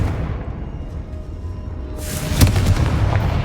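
A Confringo blasting curse in Hogwarts Legacy goes off as a sudden loud boom, followed by a sustained rumbling roar over a heavy low background.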